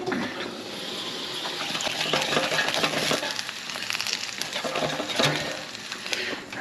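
Chipolata sausages cooking in an air fryer give a steady, close crackling sizzle with spitting pops, continuous and even throughout.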